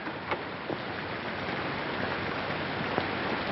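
Steady rain pours down in a dense, even hiss with a few brief drips and taps rising above it, continuous and close throughout with no voices.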